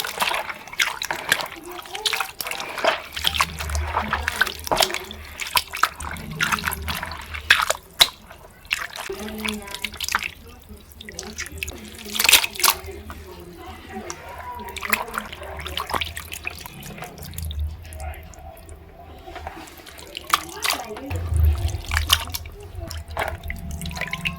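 Water splashing and dripping as tripe is squeezed and rubbed by hand in a basin, intermittent sloshes with a low hum underneath.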